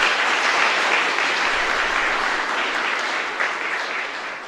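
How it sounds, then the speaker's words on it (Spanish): A church congregation at a novena service for San Luis Gonzaga applauds in a chapel, producing a dense, steady wash of clapping that fades slightly toward the end. "un fuerte aplauso para ellos."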